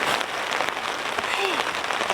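Heavy rain pounds steadily on a camping tarp, a dense, loud, even hiss without pause.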